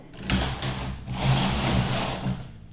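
Knitting machine carriage pushed across the main bed with a punchcard selecting needles, giving a steady mechanical whirring rattle for about two seconds, close and moderately loud with slight swells in intensity.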